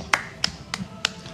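A commentator claps close to a microphone in a Smite esports LAN studio: four sharp, evenly spaced claps, loud and dry.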